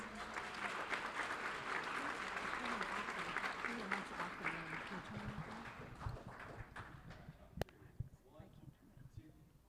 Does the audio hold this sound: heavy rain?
no